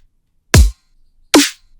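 Two punchy drum hits in quick succession for a breakdown of the track: first a deep kick layered with a bright hi-hat, then a snappy snare with a noisy crack, close and loud with silence between.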